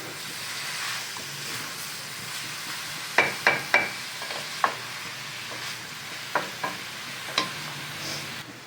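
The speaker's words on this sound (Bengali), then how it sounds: "গ্যাস জোর করে চিকেনগুলো কালার চেঞ্জ হওয়া পর্যন্ত ভালোভাবে ভাজতে হবে।" Chicken pieces frying over a high gas flame for thecha chicken, a continuous near sizzle broken by sharp spatula scrapes and stirs in quick clusters, with no voices.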